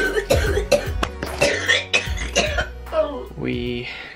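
Several rough coughs from a person at home, coming in quick bursts close to the microphone and mixed with ongoing conversation.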